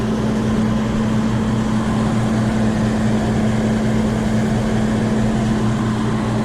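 Big truck parked nearby with its engine running, a steady loud low droning idle with a strong hum, continuous and unchanging throughout with no talk over it.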